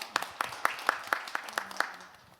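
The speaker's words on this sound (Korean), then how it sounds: "박수로 맞이해 주세요." Sparse, evenly spaced hand claps greet a speaker at a Korean youth forum panel, about eight distinct claps in a steady rhythm, fairly faint and fading out toward the end.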